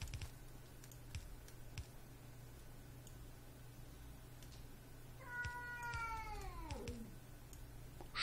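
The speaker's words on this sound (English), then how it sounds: "Sure, cat." A cat in a quiet room gives one long, drawn-out meow that slides downward in pitch, with faint keyboard clicks ticking in the background before and after.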